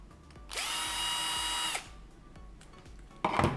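A power screwdriver whirs loudly for about a second while backing screws out of a Philips LatteGo coffee machine grinder, followed by faint clicks and a short clattering handling noise at the end.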